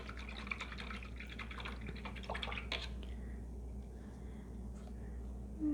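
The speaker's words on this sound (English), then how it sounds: "I'm gonna rinse that brush out now" A paintbrush rinsed in water during acrylic painting, giving faint, soft swishing and dripping in a quiet room for a few seconds before the sound fades out.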